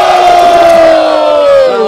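A crowd roars and whoops at a freestyle rap battle, the 171st Batalha da Aldeia in Barueri, São Paulo, a loud, close, sustained wall of cheering with one high yelling voice gliding slowly downward above it.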